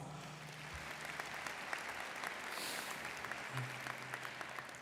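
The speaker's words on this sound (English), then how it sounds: "Can we give him a round of applause?" Audience applause at a spring college commencement ceremony, heard as a faint, even wash of clapping from a large distant crowd, steady throughout with no voices on top.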